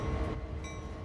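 An SD40-2 diesel locomotive moving in the Train Sim World 2 video game, a brief low rumbling engine drone with faint rail noise, steady and moderately quiet, with no talking.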